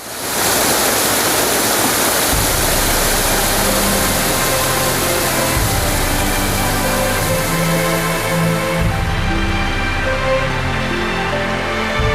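Mountain waterfall and small swollen streams after rain in the Zakarpattia region near Lumshory, a loud, close, continuous roar of rushing water with a low rumble underneath and no speech.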